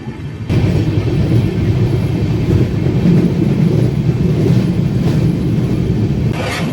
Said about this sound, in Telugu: గోదావరి ఆర్చ్ బ్రిడ్జ్ మించి వెళ్తున్నాం మనం.